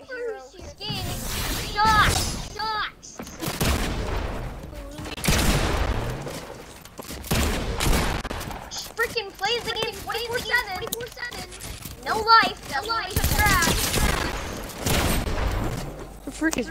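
Gunfire in the video game Fortnite during a Desert Zone Wars match, bursts of rapid shots and booms coming in clusters between stretches of lively talking by young players.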